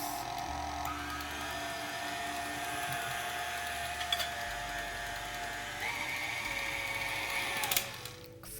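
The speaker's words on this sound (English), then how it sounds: "And then we'll mix for a couple more minutes." An electric mixer blends pistachio bar batter with a steady, moderately quiet motor whine and faint whirring that shifts pitch slightly as it runs, alone without talking.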